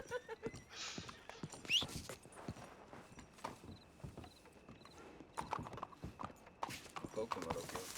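A horse's hooves clip-clop on a hard surface in a steady walking rhythm, fairly faint and close, while people talk over the footsteps.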